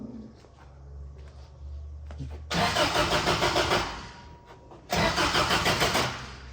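An 80s turbo Toyota truck engine cranks over, then roars in two loud bursts, the first revving for about a second and a half before dropping off and the second surging again. The sound is close and has no talk over it.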